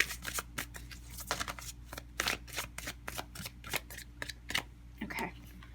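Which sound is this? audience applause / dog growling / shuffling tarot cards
shuffling tarot cards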